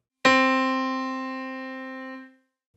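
One sustained piano note, struck once for pitch matching, rings out clearly with a sharp attack and then fades smoothly over about two seconds into silence.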